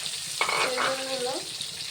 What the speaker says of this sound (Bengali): অল্প লবণ দিয়ে লাল করে ভেজে রেখে দিচ্ছি।